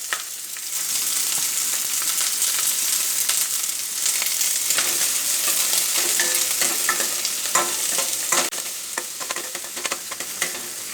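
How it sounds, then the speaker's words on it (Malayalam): Mustard seeds and chopped onion fry in hot oil, giving a continuous loud sizzle with crackling pops and scattered stirring scrapes throughout. "അപ്പം ഞാൻ ഇതിലേക്ക് കടുക് ഇട്ട് കൊടുക്കുകയാണ്."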